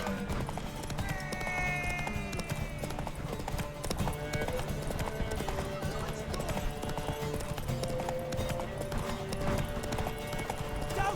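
Horse galloping in The Witcher 3, rapid continuous hoofbeats that stay steady throughout, mixed with game ambience and occasional shouting voices in the background.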